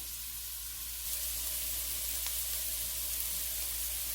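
Onion and carrot frying in a pan, a steady, even sizzle that keeps going throughout with no voices over it.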